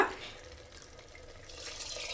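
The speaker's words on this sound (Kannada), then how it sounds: "ಇದು ಒಂದು ಲೋಟ ನೀರು ಹಾಕ್ಕೊಂಡಿದ್ದೀನಿ" A cup of water is poured into a cooking pot of ground coconut and tomato for tomato bath, a faint, brief splash and trickle in a quiet kitchen.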